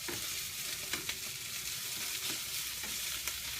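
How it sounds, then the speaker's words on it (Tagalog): Rice and egg being stirred together in a small frying pan, a steady close sizzle broken by scattered scraping clicks of the spatula, with no talking. "pag nilagay nyo yung kanin, haluin ito kasama ang itlog."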